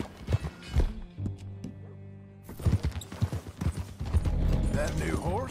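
Rhythmic hoof clip-clops from a horse in Red Dead Redemption 2, mixed with music and voices talking over much of it.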